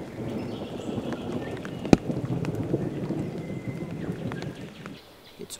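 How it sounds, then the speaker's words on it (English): An August thunderstorm outdoors: a steady, moderate hiss of rain with one sharp, close crack of thunder partway through before the rain eases. "Today, thunderstorms."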